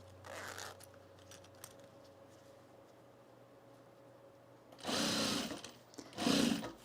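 A sewing machine running a straight stitch on a travel bag, heard as a few short whirring bursts of stitching separated by quiet pauses, close and moderately loud.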